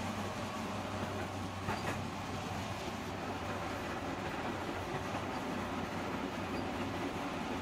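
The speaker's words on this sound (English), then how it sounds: "I knew the train was gonna show up at some point when I heard it earlier." A train passes in a video game, a steady low rumble and rolling wash holding evenly throughout with a faint rhythmic clatter, fairly close and alone.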